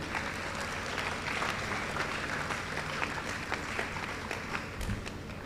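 A ceremony audience applauds the Vice Chancellor with dense, sustained clapping that fills the hall evenly and stays steady throughout.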